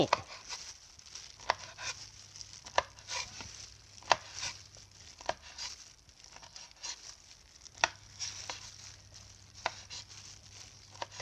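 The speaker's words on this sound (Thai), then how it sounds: "เขาเอาถั่วฝักยาวมาซอยก่อนเลยนะเจ้า แล้วเขาค่อยซอยดอกแกนาตามไปทีหลังนะเจ้า" A knife slices fresh garden-picked yardlong beans and khae flowers on a board, making a quick run of close, rhythmic chopping taps with a few sharper knocks and no talking.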